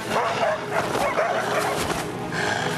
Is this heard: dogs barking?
yes